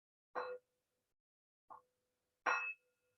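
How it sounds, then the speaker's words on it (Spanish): A meditation bell rings three times at the close of a practice, each a clear metallic strike with a lingering hum; the middle strike is softer and shorter, the last loud and ringing on. "Continuamos en esta práctica hasta que suene la campana."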